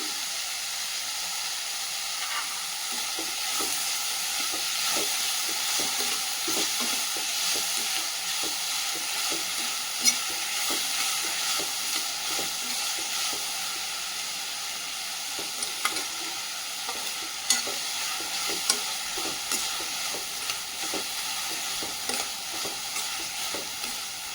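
Onions and aromatics sauté in a pan with salt for a fried dried-anchovy dish, a continuous close sizzle with frequent spatula stirs and occasional sharper scrapes.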